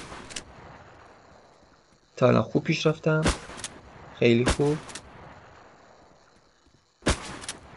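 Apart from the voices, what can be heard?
gunshots in the shooter video game Metashooter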